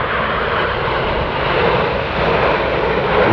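Red Arrows jets flying past at the Miramar airshow, a loud, continuous broadband roar close by that holds steady and swells slightly as they pass.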